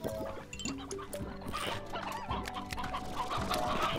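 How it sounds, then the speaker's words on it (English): Briar hens from the Slime Rancher video game cluck and squawk repeatedly in a busy, continuous chorus of fowl calls, close and fairly loud, with no talking over them. "Briar hen."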